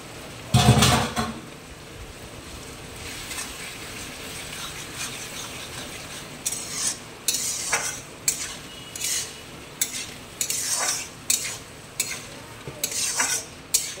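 Small tangra fish frying in a pan of masala curry, a steady soft sizzle with sharp scrapes and clinks of a spatula stirring against the pan in a rough rhythm, close and without talk.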